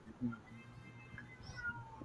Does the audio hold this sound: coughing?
no